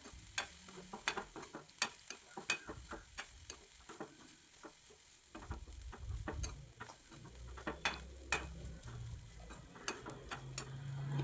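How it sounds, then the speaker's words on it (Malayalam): Grated coconut with turmeric being sautéed in oil for a Kerala drumstick thoran, heard as a soft sizzle beneath frequent sharp clicks and scrapes of a spoon stirring against the pan. "തേങ്ങ 1 മിനിറ്റ് നേരം അതിലിട്ടൊന്ന് വഴറ്റിയെടുക്കാം."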